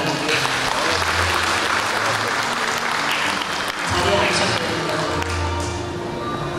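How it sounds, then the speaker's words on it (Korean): A gathering at a Rotary club presidential installation ceremony in Bucheon, Korea, applauds new members, a continuous broad clapping over a low room hum, steady and moderately loud. "회원 및 예리인께서는 힘찬 격려의 박수 부탁드립니다"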